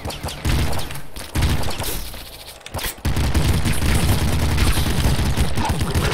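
Rapid gunfire from the pop gun in the video game Nuclear Throne, a dense, loud stream of quick shots that cuts out briefly around the middle before resuming just as fast.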